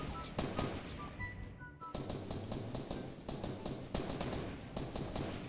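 Rapid bursts of automatic gunfire from the video game Fortnite, dense and close, rattling almost continuously with brief gaps between volleys.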